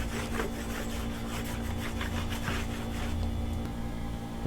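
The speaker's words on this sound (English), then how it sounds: "Then I'll just come along with the rag again." A rag is wiped across an engine cylinder head wet with brake cleaner, making steady, close, scratchy rubbing strokes that repeat in an uneven rhythm, with no voices.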